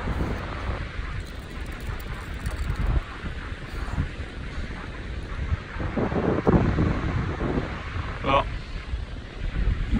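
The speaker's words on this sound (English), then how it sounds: "you can hear the sound of the ocean." Ocean surf on an open beach near a sandbar in rain, a broad steady wash of waves buffeted by heavy wind noise across the microphone, fairly loud and continuous throughout.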